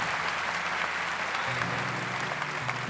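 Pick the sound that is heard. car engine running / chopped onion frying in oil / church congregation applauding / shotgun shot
church congregation applauding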